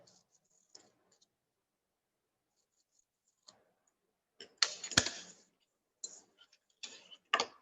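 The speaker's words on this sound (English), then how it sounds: "This is how I'm cutting the paper." Scissors snip through square paper in an art lesson, quiet at first, then a cluster of sharp, crisp cuts and rustles in the second half, close and fairly loud, with no talking.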